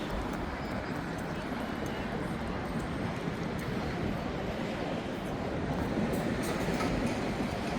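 A tram in Leith, Edinburgh rolls past as a steady, broad rumble of rail noise that stays constant and fairly loud through the whole stretch.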